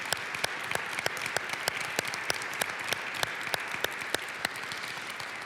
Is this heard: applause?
yes